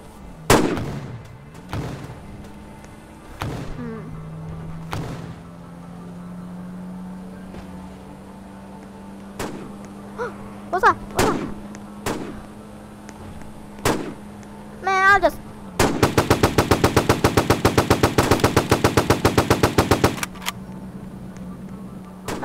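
Gunfire in a Fortnite-style Roblox game: a series of sharp, separate shots spread across the clip, then a dense rapid burst of automatic fire near the end, over a steady low game hum.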